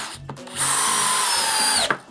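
A 12-volt cordless drill in drill mode at speed 2 whirs at a steady high pitch for just over a second, starting and stopping with small clicks, close up.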